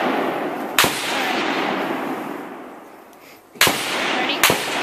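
Pistol shots fired at a Hawaiian Punch jug outdoors, three sharp, loud cracks spaced unevenly, each with a short ringing tail over a steady breezy background.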